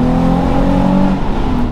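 A Nissan 350Z engine pulls hard in low revs, a loud, close, steady drone held for under two seconds before easing off.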